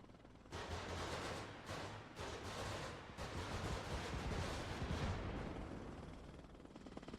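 Continuous loud bursts of rapid gunfire from a Mi-24 helicopter in the game Arma Reforger roar on and off, with short gaps between volleys, dense and harsh like heavy automatic weapons firing.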